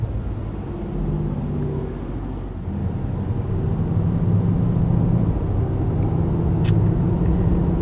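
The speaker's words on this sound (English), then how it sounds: "It does get louder, and it sounds great." Mercedes-AMG GT 4-Door sedan, 2019 model, driving with its exhaust producing a steady low rumble that swells slightly louder partway through, heard from inside the moving car with no talk.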